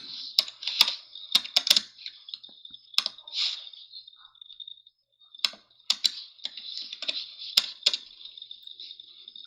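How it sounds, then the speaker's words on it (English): Keys on a computer keyboard clack in quick irregular bursts with short pauses between, close and fairly faint, with no talking. "Hit the keyboard harder, my friend."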